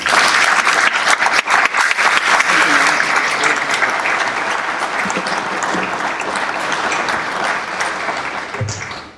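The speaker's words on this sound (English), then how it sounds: "can I ask you to give him a round of applause." A graduation ceremony audience applauds loudly and steadily, a dense wash of many hands clapping in a hall that fades slightly toward the end.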